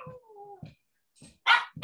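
A small house dog whines with a thin, wavering tone, then lets out a few sharp, close barks with short pauses between them.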